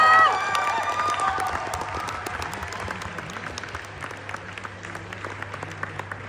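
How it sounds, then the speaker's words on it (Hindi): Audience applause at a 25th anniversary celebration held at the Hyatt Regency, loud and steady from a large crowd, with a burst of cheering at the start before the clapping settles and slowly fades. "एक बार दादा के लिए जोरदार ताली होनी चाहिए दोस्तों।"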